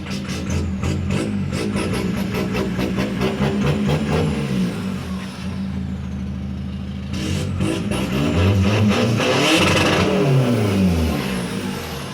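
A car with a remapped 1.9 engine revved repeatedly up toward 5000 rpm, loud and close, its note climbing and falling across several throttle blips, with a brief lull before it surges again.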